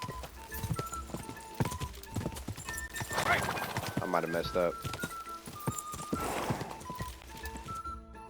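Horse hooves clip-clop steadily through a ride in Kingdom Come: Deliverance II, with a horse whinnying midway, game music underneath and someone talking over much of it.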